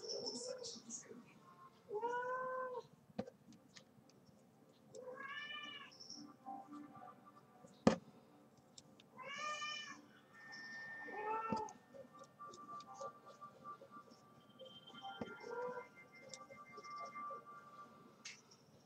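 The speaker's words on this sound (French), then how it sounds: "Je sais pas si vous l'entendez, mais c'est mon chat." A cat meows several times at uneven intervals, each meow a clear, drawn-out cry, fairly close, over a quiet, low background hum.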